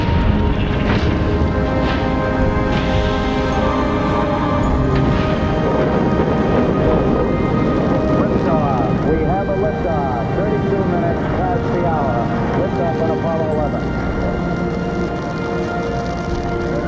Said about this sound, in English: All engine running.